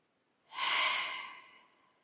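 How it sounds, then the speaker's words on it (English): One long, deep breath is drawn in through the nose, a smooth airy hiss that swells quickly, holds, then tapers off, heard close and alone in a quiet room. "So when you take a deep breath in,"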